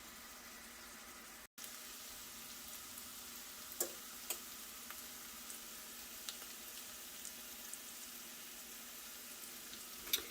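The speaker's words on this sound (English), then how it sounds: "we're going to let this keep simmering again for another probably 5 to 7 minutes" Onions simmering and caramelizing in a pan make a quiet, even sizzle with occasional soft pops and clicks, heard close and alone after a brief dropout near the start.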